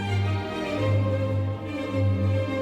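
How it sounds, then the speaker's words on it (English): Orchestral music from a large ensemble performing Mozart, with sustained bowed string tones and a steady, rich low foundation, played continuously and fairly loud without any voices. "This is the sound of 326 hands playing Mozart."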